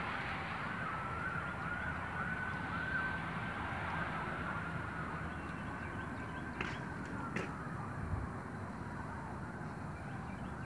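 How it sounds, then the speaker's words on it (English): A distant siren wails faintly in a long, slowly wavering tone over steady outdoor rumble, with no one speaking. "There's sirens."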